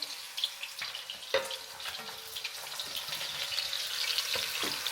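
An egg sizzling and crackling in a hot pan as a young boy cooks dinner, a steady hiss with a few sharper pops and clatters near the start.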